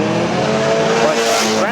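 A stock car spins out during a race at Arlington Stadium, engines roaring loudly up close with a rising tire squeal and skid toward the end, over dense race noise.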